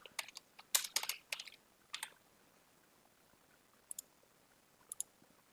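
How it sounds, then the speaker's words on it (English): Quiet, close computer mouse clicks come in an irregular cluster, then a few isolated single clicks, over a near-silent room. "So right now I'm clicking on the screen, but it's not being clicked."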